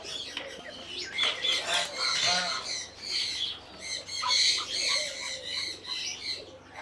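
Several young peacocks gathered together in one spot, giving repeated loud, harsh squawks and calls in overlapping bursts, with some faint rustling between them.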